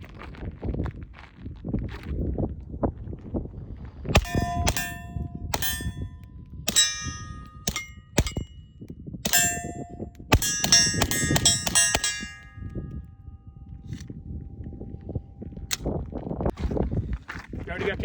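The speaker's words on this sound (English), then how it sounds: "Today we're shooting a Beretta 80X Cheetah chambered in 32" Suppressed Beretta 80X Cheetah pistol in .32 ACP fired at steel targets on a ranch range: a quick series of muffled shots, each followed by a bright ringing metallic clang, with voices talking around them.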